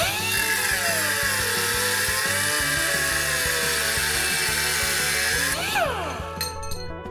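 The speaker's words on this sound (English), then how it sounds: "we're going to go ahead and cut it right here with the cutoff wheel" A cutoff wheel slices through metal with a loud sustained high-pitched screech over a rhythmic motor drone, then the pitch drops and fades as the wheel winds down after the cut.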